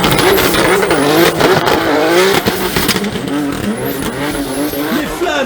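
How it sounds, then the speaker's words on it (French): A BMW E30 and a Nissan S14 race in a drift competition, engines roaring loud and close with revving, shifting pitch and tire squeal throughout. "Sofiane Yazid avec la E30. Mathias avec la S14"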